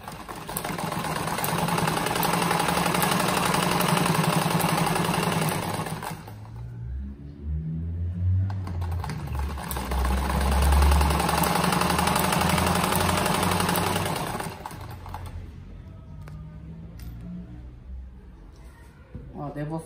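A sewing machine stitches small fabric scrap strips into a rug, running in two long rapid rattling bursts with a pause between and a quieter stretch at the end, while someone speaks.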